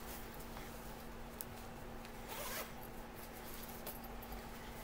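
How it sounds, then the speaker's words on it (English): A zipper on a tote bag is pulled open or closed in a quiet room, a faint, short rasping pull heard alone against a low steady hum. "But it has a zipper closure."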